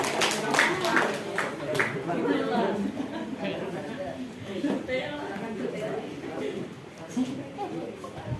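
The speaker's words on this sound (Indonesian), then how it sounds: "Tepuk tangan untuk kelompok 3, kelompoknya Guzam" A classroom group gives applause for group 3, with a short burst of scattered hand claps at the start, then fading into chatter and talking voices that continue through the rest.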